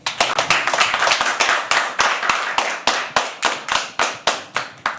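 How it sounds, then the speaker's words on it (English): An audience at a poetry open mic claps along in a steady rhythmic beat, sharp loud hand claps repeating evenly for several seconds with no talk. "So please keep clapping."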